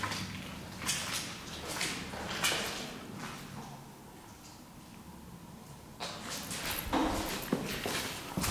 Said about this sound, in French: J'ai entendu comme des bruits de pas dans les escaliers